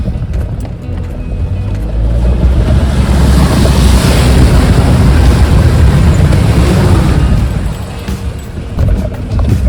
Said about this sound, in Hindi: एक और वाटर क्रॉसिंग आ गई है, थोड़ा तेज़ निकालूंगा इस बार।